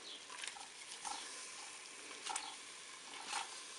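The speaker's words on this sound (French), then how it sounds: "Je suis à 10 minutes de cuisson, je vais retourner mes hautes cuisses" Chicken thighs sizzle in a cooking pot while being turned, a steady close frying hiss with a few soft scraping and clinking touches, no talk.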